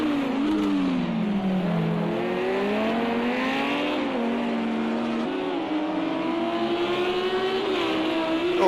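GT3 race cars in a sim racing game roar past with a sustained, loud engine drone that climbs and falls in pitch through gear changes, several cars overlapping without a break.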